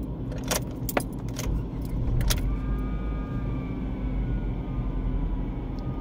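A car with a 1.5L engine, a DPS6 transmission and a lit check-engine fault is being started. Keys jangle close by, then the engine settles into a steady, loud idle rumble.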